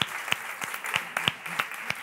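Audience applause at a women's arts event in Tarragona: a short burst of scattered, fairly sparse hand claps from a small crowd, irregular and close, with light murmuring underneath.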